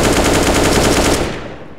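Rapid automatic weapon fire from the video game CS:GO, a loud continuous burst of evenly spaced shots that stops abruptly and trails off into a short fading echo.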